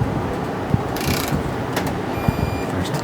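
A digital torque wrench gives a steady electronic beep during a Yamaha YZ500 two-stroke engine build, as faint clicks and mechanical ticks sound close by.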